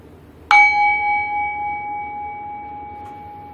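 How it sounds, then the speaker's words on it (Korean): A single calming bell chime rings out once, clear and bright, its tone ringing on and slowly fading over several seconds, with a faint second tap near the end. "마음이 편안해지는 종소리 들려드릴 거예요"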